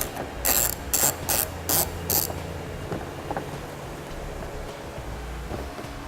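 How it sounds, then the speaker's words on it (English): A ratchet with a 10mm socket turns a nut in the fender well of a 2018 Honda Odyssey, giving five quick bursts of clicking close by and then falling quiet. "You're going to use a 10mm socket."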